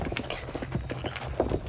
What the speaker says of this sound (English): look at that horse run